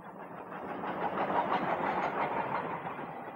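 A train climbing a snowy mountain line in Japan's Niigata Mountains near Numata, a steady rumbling rolling sound with faint clickety-clack, loud and continuous throughout.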